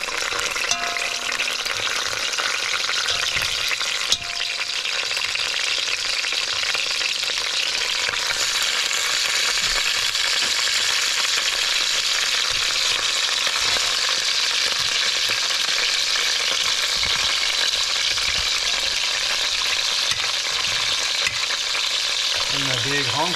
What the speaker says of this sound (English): They'll probably sizzle a little bit.